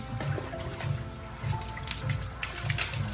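Warm water poured and trickling during a dog's bath, a steady splashing flow with a soft repeating low thump, fairly faint and with no voices.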